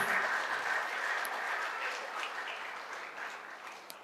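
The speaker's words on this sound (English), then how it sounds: "I'd like us to give a round of applause to the chairman of this occasion, Alhaji Musiliu Smith, CFR IGP retired." An audience applauds the chairman at an entrepreneurship lecture series, a faint, steady wash of clapping heard from a distance that fades slightly before a brief bump at the end.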